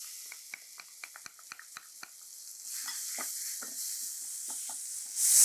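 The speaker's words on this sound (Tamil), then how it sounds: "இந்த மிளகா போட்ட பிறகு அந்த எண்ணெயிலே லைட்டாக வறுபடணும்" Chillies and raw mango fry in oil, a soft steady sizzle under a series of sharp stirring clicks and scrapes, with the hiss swelling at the end.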